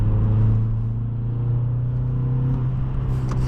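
A 2008 Nissan Altima 2.5 S sedan with a six-speed manual cruising at around 40 mph, a steady low engine drone and road rumble heard from inside the cabin, holding an even tone with a slight swell near the start.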